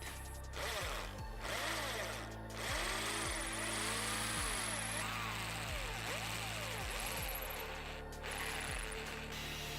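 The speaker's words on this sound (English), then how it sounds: "Now the program is to drill here and then here so that the cable can go out." An electric drill bores into a wooden table leg nearby, a loud steady whir broken by repeated grinding pulses as the bit bites in.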